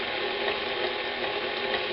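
Baking powder, baking soda and salt are stirred into flour for a lemon cake, a brisk gritty scraping and rustling that stays close and steady throughout with no voices.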